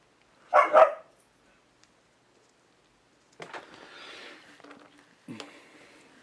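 A dog gives two quick close barks, then after a pause some fainter rustling movement and another soft bark-like burst in an otherwise quiet room.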